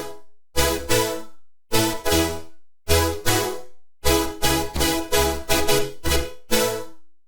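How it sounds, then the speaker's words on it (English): A Serum synth preset called 'Lead huge' plays future bass chords as loud, punchy rhythmic stabs, each decaying quickly, with a syncopated burst of shorter hits near the end. "Lead huge can also be used for chords and sounds like this."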